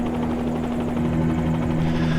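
Bell 47G helicopter in Microsoft Flight Simulator 2020, wearing a sheriff livery: a steady, loud droning engine and rotor hum with a strong low tone, constant throughout and no talking.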